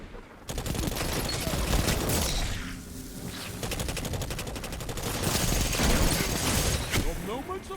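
Rapid bursts of gunfire from the Tommy's Matchbook weapon crackle through a Destiny 2 PvP match, loud sustained automatic fire with brief pauses, layered with game effects and a voice talking over it.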